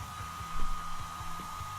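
Close, continuous hair dryer blowing with a steady motor hum and airy rush, broken by a few soft low bumps.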